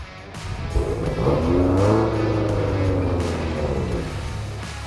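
A 2023 BMW XM SUV engine revs up loudly and close, rising smoothly in pitch, holding a strong sustained roar for a few seconds, then easing off slightly.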